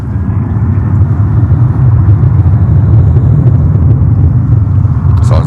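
A large jet aircraft takes off at JFK airport with a loud, heavy, sustained low roar that rumbles steadily throughout.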